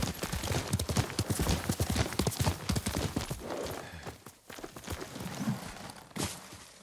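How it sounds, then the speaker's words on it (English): A horse's hooves clip-clop at a steady walking rhythm in the samurai video game Ghost of Tsushima, close and fairly quiet, with brief louder stamps near the end. "Yuriko's horse. She can't be far."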